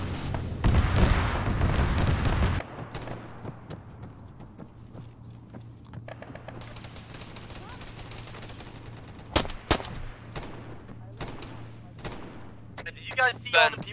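Gunfire from the Arma 3 combat game arrives as a dense loud burst at first, then scattered sharp single shots and cracks over a low steady hum, with a quick cluster of shots near the end.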